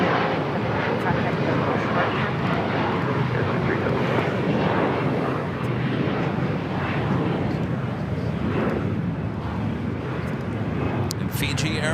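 An airliner rolls for takeoff on runway 25 right at LAX, a broad, steady engine roar heard from a distance, swelling and rumbling throughout with a voice talking over it.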